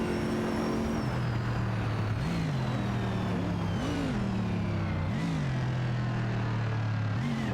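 A Porsche 911-997 Turbo races in a video game, its engine droning steadily with repeated rising rev swells as it shifts, close and continuous with no talk.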